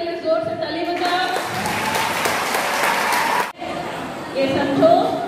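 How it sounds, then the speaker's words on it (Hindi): An audience at a youth conference in Bokaro bursts into loud, sustained applause that breaks off briefly and then resumes, with crowd chatter and voices mixed in. "इमानुएल और अर्पण के लिए जोर से ताली बजाओ"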